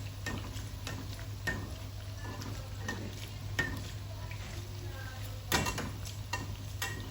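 Chonge, fried dough treats, bubbling and sizzling in hot oil as oil is spooned over them, a soft, steady hiss with scattered clicks and light utensil taps, under a low constant hum.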